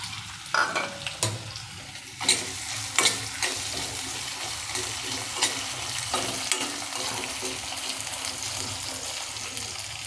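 A pinch of cumin seeds sizzles in a spoonful of hot oil in a pan, a steady frying hiss with a few sharp pops and stirring clinks near the start, no voices.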